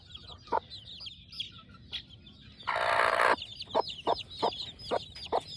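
Gamefowl chicks cluck and chirp in short repeated calls nearby, with a brief louder burst of flapping or squawking in the middle.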